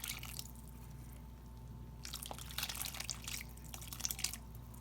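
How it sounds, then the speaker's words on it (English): Liquid poured over a homemade cornbread dressing mixture in a bowl, a soft wet trickling and dripping that comes in brief splashy bursts, fairly quiet and close, with no talking. "I'm going to go ahead and pour over our mixture here."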